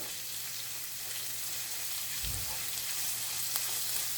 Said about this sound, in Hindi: ये अदरक लहसुन की पेस्ट मैं इसमें डाल रही हूँ।